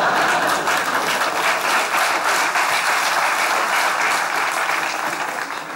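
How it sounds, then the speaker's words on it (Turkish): Loud, continuous audience applause during a Turkish stage comedy show, a steady dense roar of many hands clapping that holds throughout and eases off slightly at the end. "Alkış hemen şunu."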